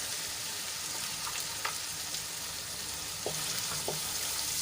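Chopped onion frying with ginger, garlic and chilli paste, a steady moderate sizzle with a few faint stirring taps, no speech.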